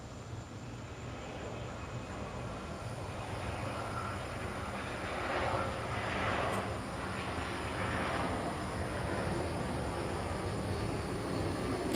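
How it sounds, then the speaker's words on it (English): An airplane passes overhead outdoors, a broad rumbling roar that rises gradually and stays loud and steady near the end. "here comes the plane. It might be loud for just a second."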